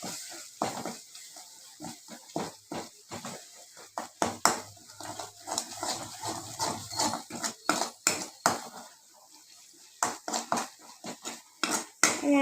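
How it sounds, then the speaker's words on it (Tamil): Metal utensils scraping and clanking in a cooking pot as thick ground masala is stirred, in irregular bursts with quiet gaps between. "இதை அரைச்சி வச்ச மசாலா போட்டு நல்லா கிண்டிடுக்கோங்க"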